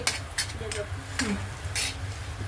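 A potato filling for bread patties is stirred and tossed in a pan, with a spatula knocking and scraping in short bursts over a soft sizzle close by.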